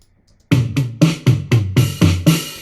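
A punchy programmed drum beat plays alone, evenly spaced hits with booming low kicks and bright snappy tops, about eight strikes in steady rhythm.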